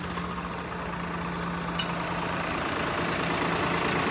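A Swaraj 855 tractor engine idles steadily throughout with a continuous low diesel rumble and a constant hum, moderately loud and close, and no voices are heard.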